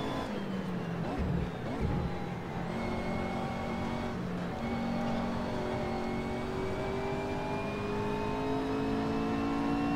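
Race car engine in the Assetto Corsa sim racing game, droning and whining steadily as revs climb and shift, with a continuous moderate-level engine note throughout.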